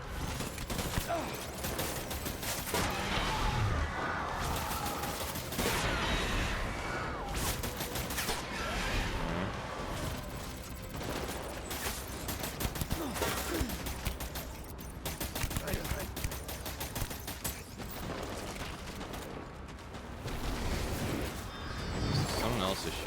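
Rapid gunfire from a Death Stranding shootout played on Very Hard difficulty, dense volleys and bursts running almost continuously under a player's occasional talk.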